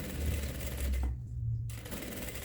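A sewing machine stitches a seam on fabric with a quick, steady mechanical whirr and rattle, pausing briefly near the middle before running again, close and moderately loud.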